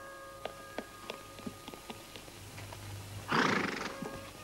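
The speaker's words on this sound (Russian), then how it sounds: "Хороший конь всегда чует индейцев." A horse in a 1968 Soviet–East German western film whinnies loudly in one sharp burst, after a run of light, scattered hoof clip-clops. A low hum sits underneath.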